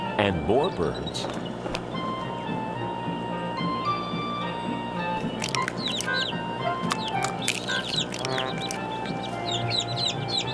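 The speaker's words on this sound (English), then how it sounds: "There were birds," Birds chirp repeatedly in a children's creation-story program, with quick, bright calls and clucking layered over sustained musical tones throughout.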